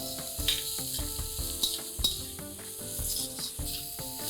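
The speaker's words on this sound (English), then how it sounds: "Now saute the onions till they are translucent and not brown." Finely chopped onions sauté in butter in a pan, giving a steady, soft sizzle with light stirring clicks and scrapes throughout, alone with no voices.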